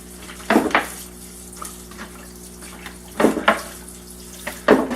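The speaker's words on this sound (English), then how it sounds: "I'm just going to keep going, getting this thing nice and full of water" Water pours into the pot of a freshly repotted Satsuki azalea bonsai in a few close, gurgling bursts, with a faint steady background between them.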